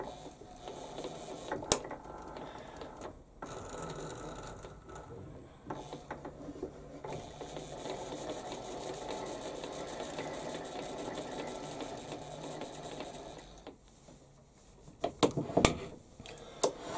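A metal lathe runs steadily while machining a fire piston part with an undercut, giving a continuous mechanical whir and hum with a few knocks and clicks; near the end it quiets briefly before more clunks.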